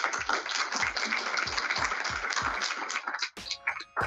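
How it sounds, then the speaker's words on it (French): An audience at a finance masterclass on African infrastructure claps for the panelists, a loud, dense burst of many hands close by that thins out and stops near the end. "On applaudit nos panélistes."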